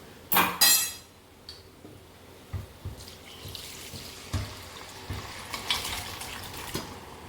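Masala liquid is poured into a pan of home-style chicken curry, opening with a loud splashing gush, then softer drips and light clinks trailing off, close with no talk.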